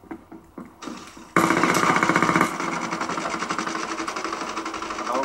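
Sustained rapid machine-gun fire in the Black Ops 3 video game, a fast even rattle of shots that starts abruptly after a few scattered softer sounds and continues loudly to the end.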